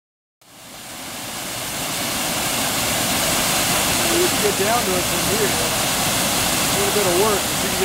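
Canyon Creek in Oregon rushing steadily as a broad, continuous wash of flowing water close by, rising in at the start and holding constant, with a voice faintly heard over it.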